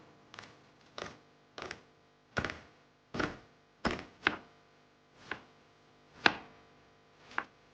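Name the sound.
onions being chopped with a knife for biryani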